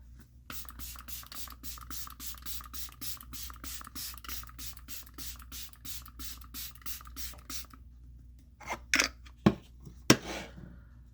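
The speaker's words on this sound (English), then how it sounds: "I think I'm going to spray my face this morning." Three quick, sharp spritzes of LYS Natural Finish face mist spray near the end, following a long stretch of steady rhythmic scraping strokes.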